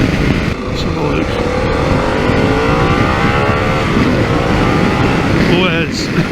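A Harley-Davidson Pan America motorcycle engine revs hard while riding, loud and close, with a steady roar that climbs and falls in pitch and wind rush throughout.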